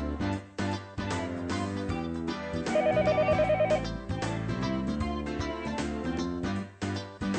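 Telephone ringback tones with a musical ringtone melody playing loudly while a call is placed, the pulsing ring pattern standing out over the tune midway, with no voices.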